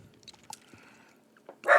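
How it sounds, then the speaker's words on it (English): A dog barking at her own reflection in a window, a few soft yips and whimpers followed by one louder close bark at the end. "So that's Ribeye looking at her reflection in the window, barking at herself."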